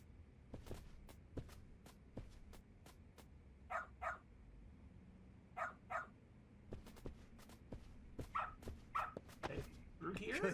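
A dog in the video game Lost Judgment gives a few soft barks and yips in short clusters over sharp clicking steps and a low hum, faint and fairly close.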